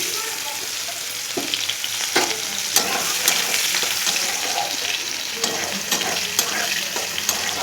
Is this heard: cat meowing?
no